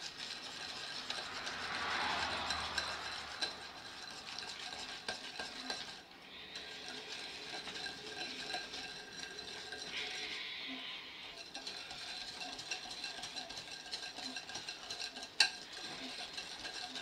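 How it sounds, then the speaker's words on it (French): A whisk beats almond cream in a bowl for apple dessert, a quick continuous metallic stirring and clattering rhythm with brief pauses, fairly quiet and close. "Donc là, on va prendre le fouet."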